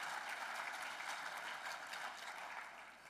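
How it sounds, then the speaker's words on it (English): Audience applause fills a luncheon keynote hall, a dense steady patter of many hands clapping at moderate, somewhat distant level, tapering slightly toward the end with no voices over it. "Let's give another round of applause and thank you to Dave"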